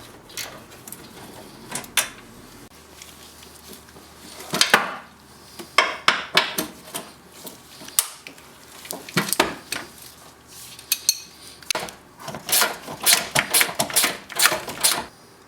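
Four 10mm bolts are loosened and removed from the battery platform of a Pontiac Vibe, a close series of irregular metallic clicks, ratchet ticks and clanks that grows busier toward the end.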